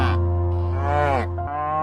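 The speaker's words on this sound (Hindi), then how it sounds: "बछड़ा डर गया और जोर जोर से रोने लगा।" A cartoon calf cries out in a loud, drawn-out moo with wavering pitch, followed by a second shorter bleating call, close and alone without talk.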